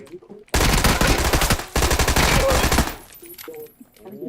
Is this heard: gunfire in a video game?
yes